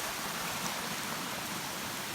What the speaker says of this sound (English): that's the stream, a fast flowing stream, I guess because of the rain last night